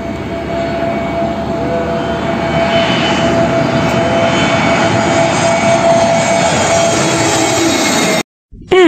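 A fixed-wing aeroplane comes in to land with a loud, sustained jet engine roar and a steady whining tone, close and unbroken for about eight seconds before cutting off abruptly.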